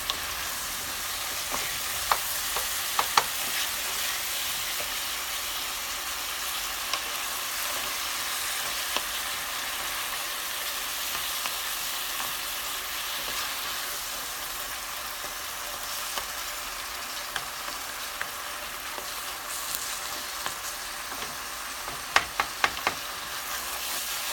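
Garbanzo bean curry with fenugreek frying in oil, a continuous loud hiss and crackle held close for a long stretch, with occasional sharp pops and spatters.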